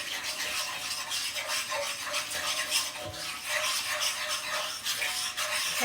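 An egg is whisked into cookie dough with quick rhythmic scraping strokes in a bowl, steady and close, with no speech.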